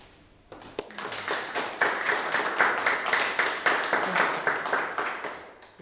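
Applause from a small audience at a Sunday matinée poetry reading, a sudden onset of close, irregular hand claps that build and continue steadily to the end without any talk.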